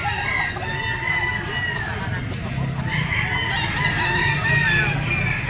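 Yellow-legged sweater gamefowl bull stag crowing, with harmonic calls and a second crow partway through over a rough farmyard background, other fowl clucking nearby.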